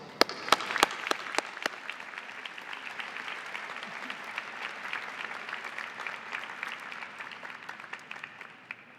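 Graduates and guests at a university diploma and awards ceremony applaud, a few sharp close claps at the start swelling into a sustained, even wash of crowd clapping in a large hall.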